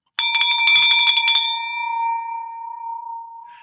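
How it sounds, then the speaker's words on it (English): A victory bell is rung in a quick burst of several bright strikes, then its clear metallic tone hangs and slowly fades over a couple of seconds, heard alone. "Let's ring that victory bell."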